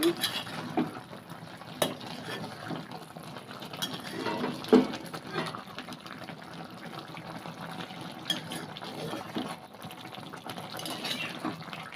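Chicken curry is stirred in a pot with a spoon, making steady, soft scraping and bubbling and a few light clinks of metal. No one speaks.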